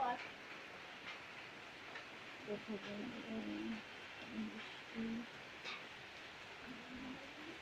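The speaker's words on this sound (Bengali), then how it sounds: "প্রচন্ড বৃষ্টি হচ্ছে।" Heavy rain hisses steadily and evenly, with voices talking faintly underneath.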